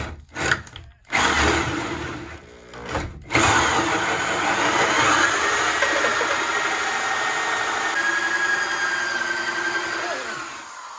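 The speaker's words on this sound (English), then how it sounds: "I'm going to drill the hole." A power drill bores a hole for a shower and whirlpool bath vent pipe in an attic. The drill starts and stops in short bursts, then runs steadily and loud for several seconds before winding down.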